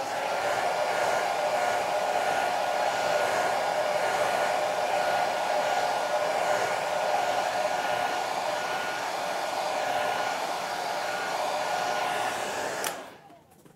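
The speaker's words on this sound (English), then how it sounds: "let me blow dry it for about a minute here" A hair dryer blows steadily over a wet watercolor painting of birch trees, a constant loud whirring hum lasting over twelve seconds before it switches off abruptly near the end.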